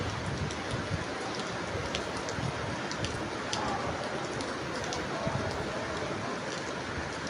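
Heavy downpour of rain pouring steadily, a dense unbroken hiss of drops striking surfaces nearby, uniform in loudness with no pauses.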